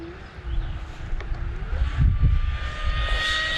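An E-flite V1200 RC plane diving at high speed, its electric motor and propeller whining with rising and falling tones over gusty wind noise, sustained and moderately loud.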